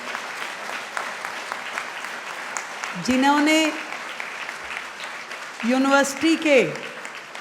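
A university felicitation audience in Delhi breaks into applause for the vice chancellor, two short loud bursts of clapping rising over an ongoing speech from a man at the microphone.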